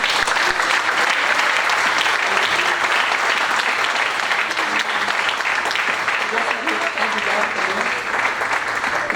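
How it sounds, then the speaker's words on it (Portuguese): A church congregation applauds in a steady, dense wash of clapping that lasts throughout, with voices faintly audible underneath. "eu gostaria que todos aplaudissem o Senhor pelo seu nome."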